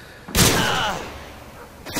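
Gunfire in Modern Warfare 2: a sudden loud burst of shots that rings out and fades over about half a second, then a fresh sharp onset right at the end.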